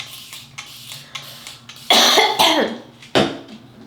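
Several short coughs, a few soft ones followed by two loud, harsh bursts close to the listener.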